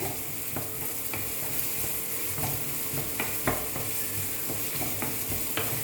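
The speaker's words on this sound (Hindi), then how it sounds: "ये डालेंगे चॉप कट प्याज। इसको थोड़ा भून लेंगे" Chopped onions sauté in a pan for a chilli-free paneer chapati sandwich, a constant soft sizzle broken by several sharp clicks of stirring against the pan, with no talking.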